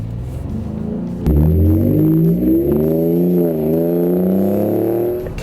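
A 2017 Ford F-150 Raptor pickup accelerates hard from inside the cab, its engine note rising sharply with a sudden jump in loudness, then climbing steadily in pitch, dipping at a gear change and climbing again, with a faint steady whine above.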